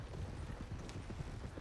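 A horse's hooves clip-clop in a video game, a quick, even run of soft, close hoof strikes under a low background hum, with no talking.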